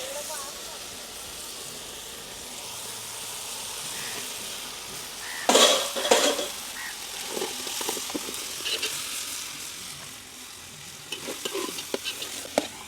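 Ginger-garlic paste stirred and frying in a pan for a Kollam-style backwater crab roast, a steady hiss of sizzling broken by louder scraping stirs midway, close and continuous.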